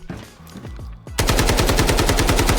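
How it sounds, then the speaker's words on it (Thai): AKM rifle fired in full-auto, uncontrolled, in the video game Delta Force: a few scattered shots and clatter, then a loud, rapid, unbroken burst of evenly spaced shots that runs to the end. "คุณผู้ชมอันนี้ผมจะยิงแบบไม่คุมเลยนะ"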